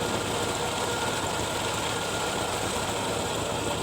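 Toyota Kijang with a 5A engine idles during a tune-up, a steady, even mechanical drone with no change in pitch or speed throughout, close and alone without voices.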